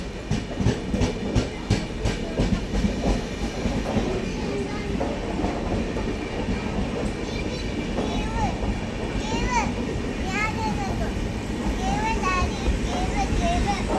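A train rolls through Angamaly railway station with rhythmic clickety-clack of wheels over rail joints and a constant heavy rumble, while children's voices and chatter ring out on the platform and a squeal rises over the noise.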